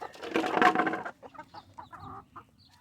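Native mix hens: a loud, close burst of clucking and squawking, followed by softer scattered clucks.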